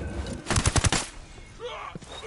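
A quick burst of automatic gunfire in Ghost Recon Wildlands, about five rapid, punchy shots close by, followed by quieter ambient game sound and faint distant noises.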